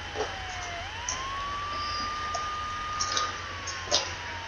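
A police car siren in the Emergency 4 video game wails steadily in a long rising and falling tone, moderately loud over a constant game background hum.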